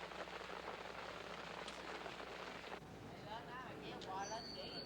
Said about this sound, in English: There's only the sound of the rain